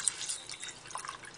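Melted beef tallow poured into a bowl lined with paper towel, trickling and dripping steadily as it strains out meat remnants, close and alone.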